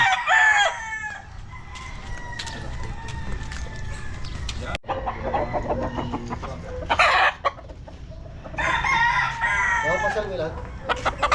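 Roosters crow and hens cluck in a tidy backyard farm in Batangas, several loud close calls in bursts over a background of softer clucking, with people talking in between.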